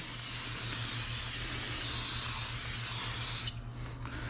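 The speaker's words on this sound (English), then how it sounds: "spray some brake cleaner on it" A steady, loud spray of brake cleaner onto car brakes hisses continuously for about three and a half seconds, then cuts off, leaving quieter background noise.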